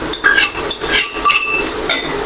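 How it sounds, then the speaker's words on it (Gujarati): A spoon stirs okra curry with added chutney in a pan, giving light clinks and scraping as the spoon moves through the vegetables, with soft sizzling underneath, close by and continuous. "હવે આપણે તેને સારી રીતે મિક્સ કરી લઈશું."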